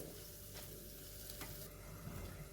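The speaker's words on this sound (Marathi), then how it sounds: "पुन्हा एक दोन मिनिटं हे परतून घेऊन मी ह्या भाज्या बाजूला काढीन" Mixed vegetables sautéing in butter for a white sauce pasta, a steady low sizzle with occasional stirring scrapes, close and moderately quiet, no talking.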